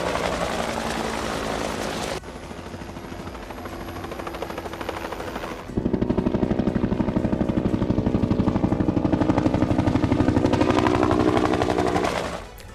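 A Russian helicopter fires on targets near Avdiivka, a loud, sustained rapid rattle of gunfire over a droning rotor and engine. The firing steps up sharply midway and keeps going without talk.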